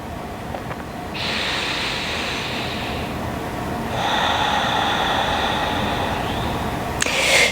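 Deep, forceful yoga exhales pushing all the air out, drawing the belly in; two long breathy rushes, each lasting a few seconds, close and steady over a soft background hum, no talking.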